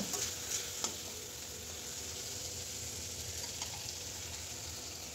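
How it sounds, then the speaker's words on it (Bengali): Tomatoes cook down with spices in a pan, a soft continuous sizzle and hiss with an occasional faint utensil tap, fairly quiet and steady throughout. "এদিকে সব মশলা দিয়ে টমেটোটাও কষিয়ে নিচ্ছি"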